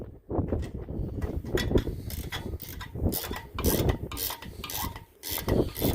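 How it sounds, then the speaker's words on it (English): A Craftsman ratchet wrench clicks in quick, uneven runs of pawl ratcheting, close and fairly loud, with brief pauses between strokes and no talking. "That ratchet wrench."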